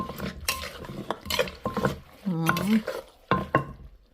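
Spicy cucumber salad with fresh shrimp and fermented fish sauce being tossed in a bowl: intermittent clinks and scrapes of utensils against the dish in irregular bursts, with a voice speaking between them.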